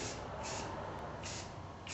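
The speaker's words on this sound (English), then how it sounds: "I'm not spraying that hard, just a real light tack coat on it" Paint spray gun laying a light tack coat on a Corvette, a steady hiss of atomized spray with brief pulses as the trigger is eased, close and fairly quiet.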